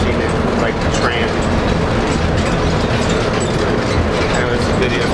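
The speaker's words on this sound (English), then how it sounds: "this is the Orlando airport, if you guys have never seen it, like the tram." An Orlando airport tram runs with a continuous rolling rumble and rattle under faint, muffled voices, its clatter of moving cars steady and close throughout.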